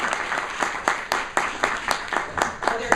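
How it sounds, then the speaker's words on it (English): Meeting audience giving a small, sparse round of applause, a handful of people clapping in a fairly regular rhythm at close range. "I expect a round of applause by the way"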